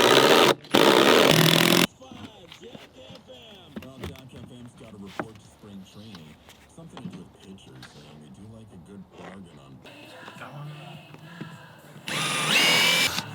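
Power drill driving a screw into a curved deck, with short high buzzing bursts at the start and end, and a stretch of speech between them.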